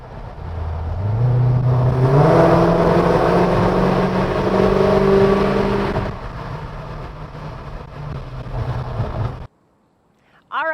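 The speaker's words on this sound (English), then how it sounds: "Again, hear that sound from the engine." A 2020 Dodge Challenger SRT Hellcat Redeye engine revs and accelerates loudly, its pitch climbing through gears, then settles into a steady drone before cutting off abruptly.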